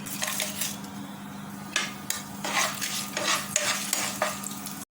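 Cinnamon sticks, a bay leaf, fennel seeds and two dried chillies frying in prawn-infused oil for a Kerala prawn roast, giving a steady close sizzle with intermittent stirring scrapes and clinks of a utensil in the pan.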